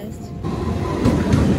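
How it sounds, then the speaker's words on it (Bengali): A train pulling into a station, a steady low rumble that swells louder toward the end, heard close by with faint background activity. "ওই ট্রেনের আওয়াজ দিচ্ছে ট্রেনটা জাস্ট এবার ঢুকে যাবে"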